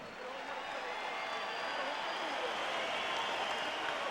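Audience applause at a boxing event in New York for the families of 9/11 victims, a steady dense wash of clapping and crowd noise holding evenly throughout at a moderate level.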